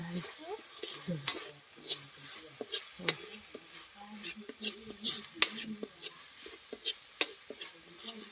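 Palm sugar strands stirred and roasted in a pan, with soft scraping and stirring strokes, occasional sharp taps of the utensil on the pan and a light sizzle, close by, with quiet speech mixed in.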